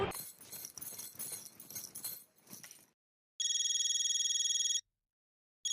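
An incoming-call ringtone on a phone plays as a steady bright electronic tone for about a second and a half after a stretch of background noise, then cuts off, with a brief restart at the very end.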